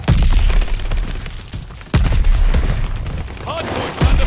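Loud, continuous gunfire in the online shooter Call of Duty Vanguard during a hardpoint match: sustained rapid bursts with sharp individual shots and heavy booms, dense and close throughout.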